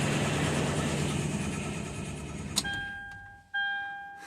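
A 2005 Toyota Sequoia engine runs at idle, then is shut off with a click, leaving quiet steady electronic chimes ringing in the cabin; no one speaks.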